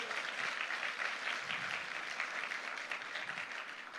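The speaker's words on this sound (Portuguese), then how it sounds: "Pode dar salva de palmas ao Senhor Jesus." A church congregation claps continuously in praise, a dense, steady wash of many hands applauding together for the full few seconds with no voices standing out.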